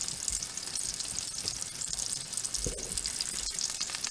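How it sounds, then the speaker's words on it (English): Bacon-wrapped pork loin sizzles in a pan over a lowered flame, a steady bright crackle with a few soft thumps of handling, heard close and alone. "Isn't that sound of wonderful sizzling?"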